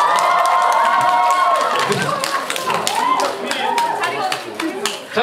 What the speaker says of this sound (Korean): 지금 들어오시는 분들 박수 한번 주세요.